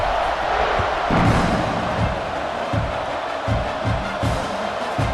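Stadium crowd at a football game cheering after a scoring drive, a broad, steady roar with swells and scattered shouts, loud and continuous throughout.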